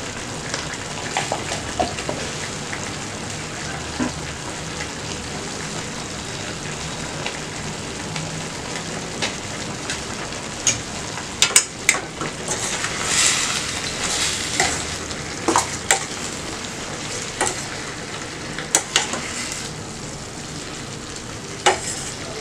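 Eggplant chutney sizzles and fries in a pan with turmeric and salt, a steady crackle broken by scattered sharper pops and stirring scrapes.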